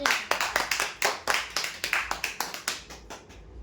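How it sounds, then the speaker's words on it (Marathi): Applause for a prize draw winner at a weekly lucky draw event, a small crowd clapping steadily and loudly in a quick rhythm throughout. "जोरदार टाळा"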